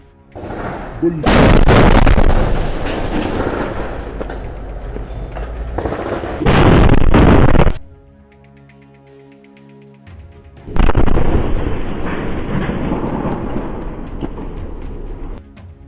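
Booby trap explosion striking an IDF tank in Gaza's Jabalia area, heard as loud bursts of blast and gunfire-like noise in several separate surges with a quieter gap between them.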